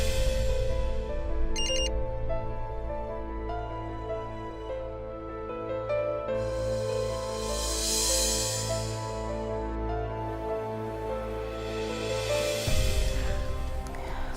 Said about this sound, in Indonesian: malam-malam gini siapa yang SMS?